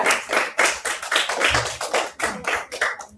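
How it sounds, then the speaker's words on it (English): A school class applauds in a room, a dense run of many hands clapping close by at full volume for about three seconds. "give yourselves another round of applause because you're still correct"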